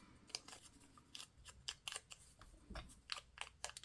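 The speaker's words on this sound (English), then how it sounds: "So we're just going to trim that edge." Quiet scissor snips trim the edge of a paper collage piece for a mixed-media coaster gift set, several short crisp cuts in an irregular rhythm with no talking.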